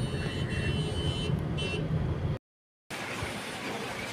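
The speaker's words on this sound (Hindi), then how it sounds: "ये सुजल के पापा बैठे हुए गाड़ी चला रहे हैं" A car driven along a road carries a family home at dusk, giving a steady low interior rumble with faint passing traffic, broken by a brief dropout before the road noise returns.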